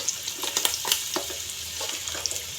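Mussels sizzling in sesame oil in a pan, a steady close frying hiss broken by brief crackles and pops, with no talk.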